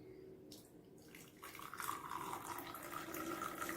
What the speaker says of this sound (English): now pour in the syrup solution